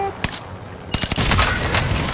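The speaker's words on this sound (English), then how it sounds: "Oh, I'm getting shot at." Gunfire in Call of Duty Warzone, a couple of sharp isolated shots followed by a dense, loud burst of overlapping fire, with faint talk underneath.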